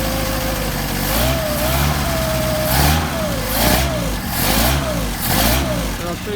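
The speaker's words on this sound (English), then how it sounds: "the only way to tune these things is to warm up the engine so the carburetors are warmed up" A Mercedes 190SL engine with Solex carburetors warms up at a steady idle. The close, continuous running has rhythmic swells and a thin whining tone over the low throb.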